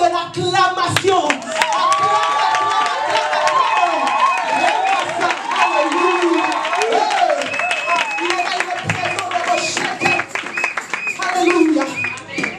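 A church congregation claps and cheers in praise, a dense, sustained wash of hands and voices filling the room, with singing and shouted voices mixed through it throughout.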